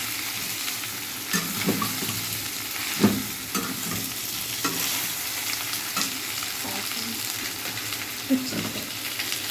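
Fried potatoes and drumstick pieces are stirred in a hot pan, giving a steady sizzle and frying hiss throughout with scraping stirs and a few sharper clacks of the spatula against the pan.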